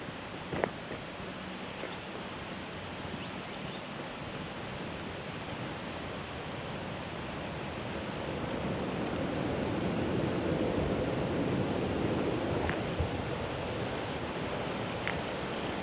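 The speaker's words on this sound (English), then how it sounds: "we've got the waterfall, and it is bloody amazing" A steady, broad rush of falling water from an Australian waterfall, running high after overnight rain, roars continuously, swelling slightly louder midway, with no voices over it.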